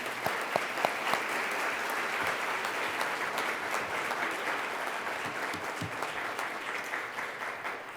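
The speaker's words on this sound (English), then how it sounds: "Big round of applause" Sustained applause from a forum audience at a Columbus Metropolitan Club panel on Black maternal mortality, a dense, even roar of many clapping hands lasting several seconds with no voices over it.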